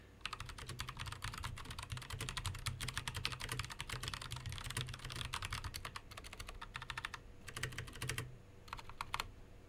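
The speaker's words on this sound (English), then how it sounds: "Here's a quick sound test for you of the Alpha Zulu tactile switch." Rapid, continuous typing on a Das Keyboard fitted with Alpha Zulu tactile switches, close crisp clacks in dense bursts with a couple of short pauses near the end.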